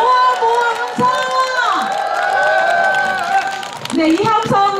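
Festival audience at the third Gimcheon Jikji cherry blossom song contest cheers and whoops, a broad crowd roar building alongside a host's amplified voice.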